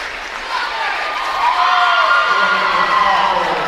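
Crowd cheering and applauding at an A&T Stevenson versus West Liberty stunt cheerleading competition after a back bend stunt, a steady loud roar of shouts and whoops that swells after the first second and holds.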